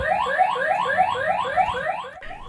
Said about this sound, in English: So now if I go to open the door, you'll see the alarm gets set off.